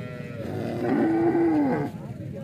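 A single cow at a cattle market in Pakistan lets out one drawn-out, tonal moo of about a second, close and loud over steady crowd and market noise.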